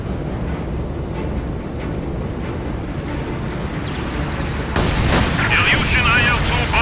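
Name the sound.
incendiary artillery barrage in a video game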